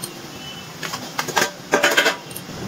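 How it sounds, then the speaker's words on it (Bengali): Fried potatoes go into a pan of cooked-down tomato and spice masala for a shankar (stingray) fish curry, making a few short clattering, rattling bursts at close range with no voices. "এবারে এর মধ্যে দিয়ে দিচ্ছি ভেজে রাখা আলু।"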